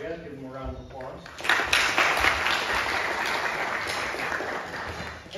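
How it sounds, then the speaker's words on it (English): Following a spoken introduction, audience applause at a sophomore music recital swells up suddenly and continues as a steady, moderately loud wash of clapping that slowly tapers off. "Give them a round of applause."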